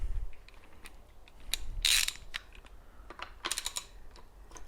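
A 15mm socket wrench ratchet loosens a lower-leg bolt on a Fox 36 bicycle suspension fork, giving scattered close clicks and short ratcheting bursts, with one louder rasping sweep.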